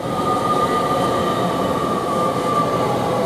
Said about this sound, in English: We've got another Great Western Railway coming through here, which is 800 303 going to Western-super-Mare.